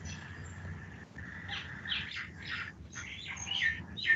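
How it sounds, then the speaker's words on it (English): Several birds chirp and tweet in quick, high, scattered calls over a quiet background, fairly faint and overlapping, with no talking. "The chirping of the birds."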